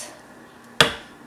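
A knife trims the edge of a very soft, sticky loaf of handmade soap: one sharp close thunk with a brief decay, quiet otherwise.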